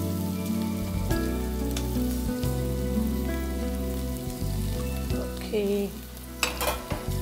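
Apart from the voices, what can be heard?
onion and green chilli frying in oil after mustard seeds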